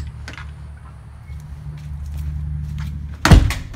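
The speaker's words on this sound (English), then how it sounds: "I just slammed it, but that's fine." A door slams shut with one sharp, loud bang near the end, after a few seconds of low background rumble and faint movement.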